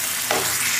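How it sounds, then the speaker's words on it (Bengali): Egg masala curry fries and sizzles in a pan with a steady hiss and a brief stirring scrape, close and alone. "একটু ভালো করে ফ্রাই করে নেব।"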